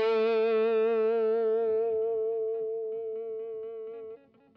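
A single note rings out on a Tokai LoveRock electric guitar, held and sustaining steadily with effects before decaying, then cutting off near the end.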